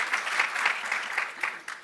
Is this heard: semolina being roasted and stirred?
no